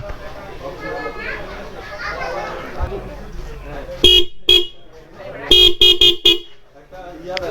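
Denso motorcycle horns give several short, sharp honks, one single blast and then a rapid cluster of beeps, close and loud, after a stretch of people talking nearby.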